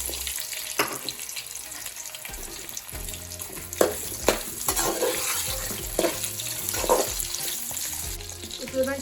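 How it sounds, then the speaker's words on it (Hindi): Two sliced potatoes fry in hot oil for a bitter gourd and chicken dish, giving a steady close sizzle broken by scraping stirs and occasional louder crackles, with no talking. "ये 2 आलू लिए थे मैंने, जिनको ऐसे स्लाइसों में मैंने काट लिया है। अब इनको मैं फ्राई करूँगी।"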